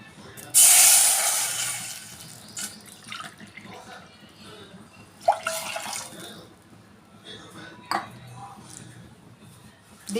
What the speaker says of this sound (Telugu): దీనిలోనే ఈ చిన్న గ్లాస్తో 2 గ్లాసులు నీళ్ళు పోస్తున్నానండి.